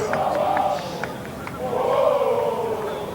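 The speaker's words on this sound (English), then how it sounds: "Not a very big crowd at Lancaster Park, but it is vocal" A small but vocal rugby crowd at Lancaster Park during a World Cup match between Argentina and Italy, rising and falling chants and shouts heard from a distance under a commentator's voice.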